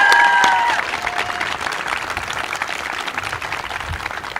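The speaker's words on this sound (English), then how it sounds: "Can we give them a round of applause?" Audience applause at a college nursing pinning ceremony, a dense, even roll of many hands clapping for several seconds in a large room, with a brief tonal ring at the start.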